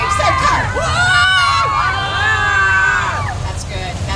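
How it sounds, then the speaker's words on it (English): Riders scream together in the third car of the Universal Studios Flash Flood ride, a loud sustained chorus of high, overlapping shrieks and whoops from a crowd of passengers lasting several seconds. "You guys, those were the best screams."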